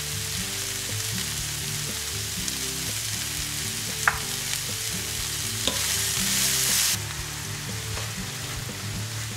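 Mushrooms, green pepper, onion and potatoes sauté in a pan with a steady, close sizzle and occasional clinks of stirring utensils, no voices.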